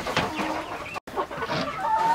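Several farm chickens cluck and chatter close by while being fed melon as a treat, a busy overlapping flock noise with a brief gap in the middle.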